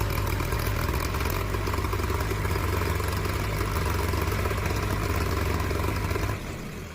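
A 4x4 tractor ploughing a field in two-wheel drive, its engine droning steadily with a low rumble and clatter close by, easing off near the end, with no talking.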